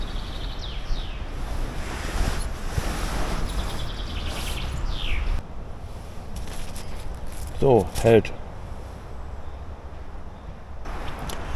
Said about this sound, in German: jetzt geht ein bisschen Wind draußen